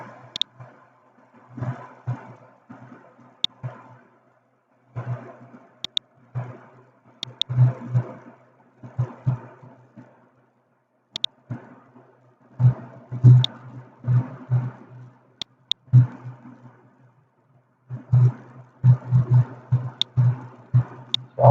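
Audi 1.8T AGU turbo engine in a car running on a dyno, heard as repeated bursts of revving and engine drone with brief pauses between pulls, fairly close.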